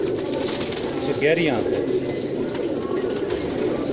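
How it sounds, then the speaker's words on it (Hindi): Rampuri pigeon, a male, giving a short rolling coo close by, partly under a voice talking over it. "ये एक और कबूतर दिखा रहे हैं आपको"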